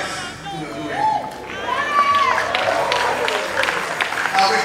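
A church congregation at a thanksgiving service claps together under loud voices and bursts of cheering. The applause is fairly close and lively, with a continuous crowd murmur.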